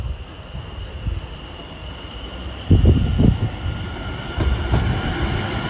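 Greater Anglia class 720 electric multiple unit 720580 pulling out of Cheshunt station, a low steady rumble of wheels and traction with a few clunks and rattles over the joints, moderately close and building slightly.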